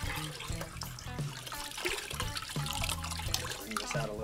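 Dirty water poured out of a bucket while cleaning a KTM 500 EXC dirt bike air filter, a continuous close splashing and gushing outdoors over about four seconds with no voice.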